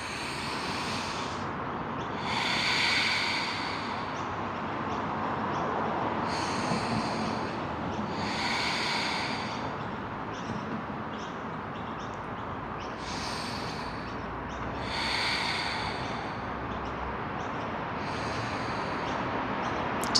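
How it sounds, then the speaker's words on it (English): Slow, deep breaths are drawn in and released during a spring yoga flow, about seven long, airy breaths spaced several seconds apart, close and clear with no talking. "Breathe."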